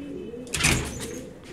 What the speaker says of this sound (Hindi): ये शहजाद साहब के मेन ब्रीडर कबूतर